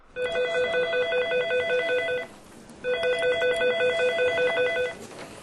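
A telephone rings in the Ulster Television newsroom in Belfast, two long bursts of bright, fast electronic trilling separated by a short pause, loud and close with no voices.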